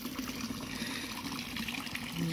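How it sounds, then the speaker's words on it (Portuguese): A live trout thrashes its tail in water at an outdoor fountain, throwing up a continuous wet splashing and sloshing that stays close and steady with no talk over it. "O peixe deu uma rabada, me molhou toda."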